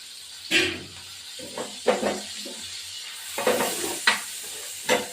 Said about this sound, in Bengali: নুন আর হলুদ দেওয়ার হয়েছে বেগুনগুলো দিয়ে দেবো ভাজি